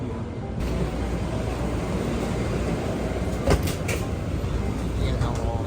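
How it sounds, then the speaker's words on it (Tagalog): An airport terminal shuttle train in Taiwan, running between Terminal 2 and Terminal 1, gives a loud, continuous rumble and hiss with a few brief clatters, while voices murmur in the background. "Ito na yung tren."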